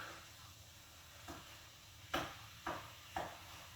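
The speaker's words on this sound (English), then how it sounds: "Give our sausage another stir." Sausage fries gently in a pan while a spatula stirs it, three distinct scraping clacks toward the end over a low, quiet sizzle.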